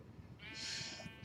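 A sheep bleats once in the Minecraft video game, a short, bright wavering call that rises and fades over about a second against quiet low background sound.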